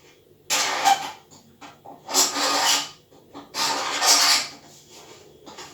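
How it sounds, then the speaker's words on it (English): A scalpel scrapes along a plastic edge of a stormtrooper suit part in three raspy bursts of about a second each, close and clear, with short quiet gaps between strokes. "just scrape the edges off like that, dead smooth"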